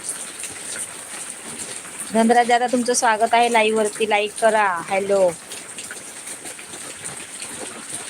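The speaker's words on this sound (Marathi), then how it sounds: "कसला आवाज येतोय पाऊस चालू आहे का हो पाऊस चालू आहे" Steady rain patters in the background throughout, a soft continuous hiss that continues under someone speaking in the middle.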